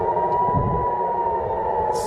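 A steady air raid siren drone in Israel during an Iranian missile attack holds a constant pitch throughout, sustained and fairly loud, with a low rumble of background noise beneath it.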